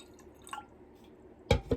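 Water poured into a drinking glass, a faint brief trickle followed by two louder close splashing gurgles near the end, with no talking.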